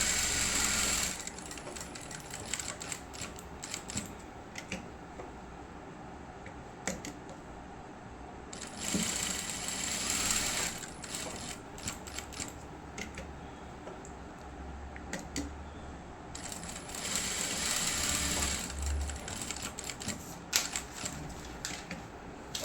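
A sewing machine runs a top stitch across a latkan for a lehenga blouse, with bursts of fast rattling stitching separated by short pauses, close and fairly loud.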